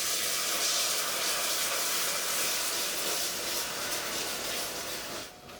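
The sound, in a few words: salted butter poured into hot caramel, sizzling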